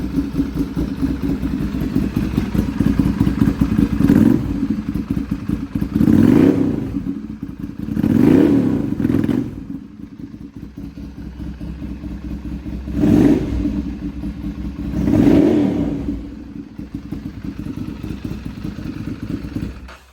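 A 2014 Ducati 796 with twin SC exhausts idles with a lumpy, clattery rumble. Its throttle is blipped in several short, loud revs spaced a few seconds apart, and it settles back to idle between them.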